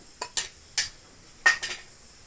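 A spoon clinks against a bowl of potato, paneer and cornflour in a few sharp, separate taps and scrapes, close and fairly loud, with quiet gaps and no talking.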